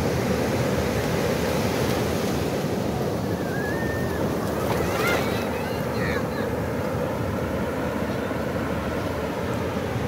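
Large ocean surf at Jeffreys Bay rolls and breaks as a constant loud roar of churning water, with wind buffeting the microphone and a few faint distant cries.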